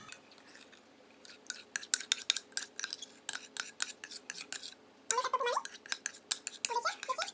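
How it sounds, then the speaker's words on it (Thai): Melted chocolate and butter stirred into an egg and sugar mixture for a chocolate cake, a quick series of soft scraping clicks and taps in an irregular rhythm, close and fairly quiet. "แล้วทีนี้เราจะเอาช็อกโกแลตกับเนยที่ละลายมานะคะผสมเข้าด้วยกัน"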